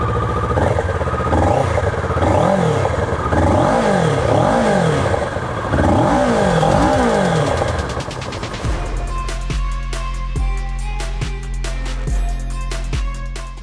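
A fully dressed Kawasaki Versys 650 motorcycle with luggage revs hard through several rising and falling bursts up close, then drops to a loud, lumpy idle with a steady thumping pulse.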